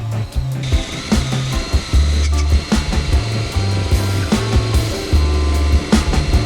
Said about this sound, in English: my dad's going to use this tool to hone out the cylinder